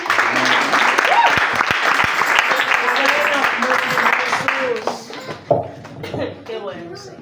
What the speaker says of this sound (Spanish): Otro aplauso, amén.